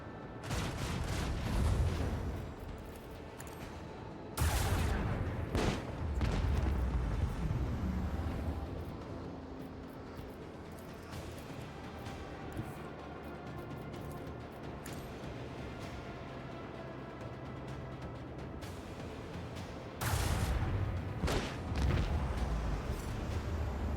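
Booming torpedo launches in the space strategy game Rogue Trader: heavy, rumbling blasts in separate bursts, with a sustained low drone and a loud final surge near the end.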